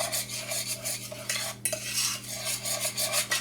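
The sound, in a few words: stirring chocolate into sugar in a pot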